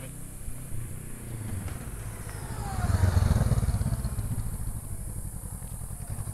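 A motorcycle engine hums during a U-turn exercise on a riding-school training area. The engine runs fairly quietly, then rises to a swell in the middle as the bike turns, and settles back to a low steady rumble.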